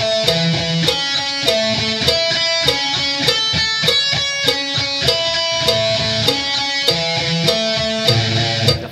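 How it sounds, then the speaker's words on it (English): Guitar playing arpeggiated eighth notes, two notes per string, against a metronome clicking at 100 beats per minute; steady plucked notes under regular sharp ticks, close and alone. "if I kept the metronome here at 100, and I wanted to play eighth notes, and I want to play two notes on each string, it would sound something like this."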